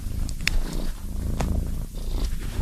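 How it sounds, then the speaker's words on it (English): A house cat purrs close up, a steady rumbling purr lasting throughout with a couple of brief higher clicks, no talking. "This is Maggie the cat"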